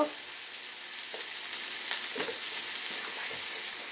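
Beetroot with salt and turmeric frying in a pan, a soft continuous sizzle close by, with a few light scrapes of stirring and no talk.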